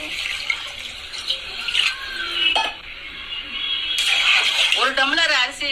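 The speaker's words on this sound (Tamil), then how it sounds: "தண்ணியை ஊத்திக்கிறோம்." Water poured into a cooking pot for chicken biryani, a steady splashing pour running under continuous talk close by.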